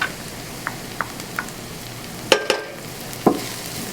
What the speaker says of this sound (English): I'm going to add the spinach in, just like that.